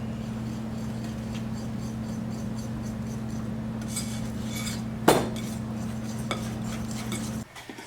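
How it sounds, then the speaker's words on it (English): A whisk scrapes and taps against a bowl as cocoa powder and sugar are mixed into a pumpkin batter, a steady close rattle over a low constant hum, with one sharper clink near the end. "we're going to whisk that all together"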